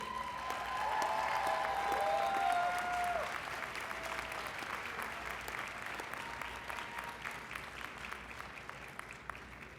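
An audience at the Montgomery College commencement applauds in a steady, dense wash of clapping that fills the hall, louder at first and then settling, while a voice speaks briefly near the start.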